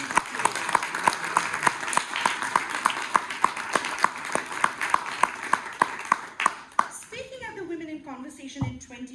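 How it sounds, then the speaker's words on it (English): An audience at a women's conference event applauds with regular clapping beats over a hum, the clapping fading out near the end as a voice begins speaking. "So I would request all of you to give a big round of applause for CB"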